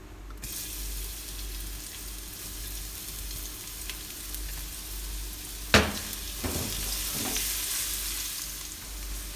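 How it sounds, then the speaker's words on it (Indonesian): Garlic frying in about three tablespoons of cooking oil for a stir-fried kwetiau noodle dish gives a steady, close hiss throughout, with a few sharp clatters of a utensil against the pan partway through. "Bawang putih ditumis sampai harum."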